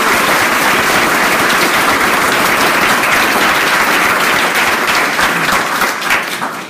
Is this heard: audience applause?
yes